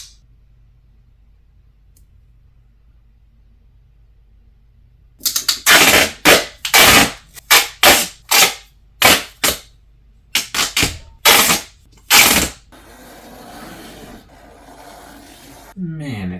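Duct tape being torn off the roll and cut into strips for a handmade Cat 320D excavator model, a quick run of loud, close ripping pulls after a quiet start, followed by soft handling noise.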